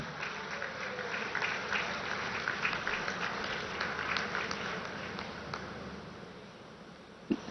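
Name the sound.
crowd applause welcoming the Prime Minister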